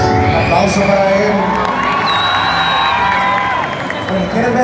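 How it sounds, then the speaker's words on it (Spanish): A concert audience at a salsa band show cheers, whoops and claps loudly for a musician named Ricardo, the close, lively roar running steady throughout with shouts rising above it. "Aplauso para él."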